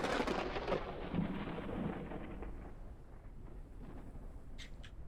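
Deep rolling thunder from a lightning strike in a video game, a loud broad rumble that swells early and then slowly fades, with faint crackles near the end.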